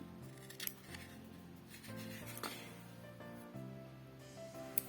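Repeated snips of scissors cutting paper over a steady low hum, with a few sharp clicks of the blades closing.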